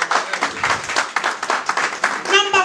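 A church congregation claps during a Twi-language service in the Bronx, the dense clapping carried along with voices and crowd noise before it thins out at the end.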